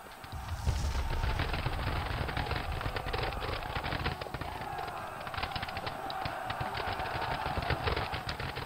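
Heavy musket fire from massed infantry rattles through a Seven Years' War battle at Kunersdorf in a strategy video game, dense crackling volleys sustained throughout at steady loudness.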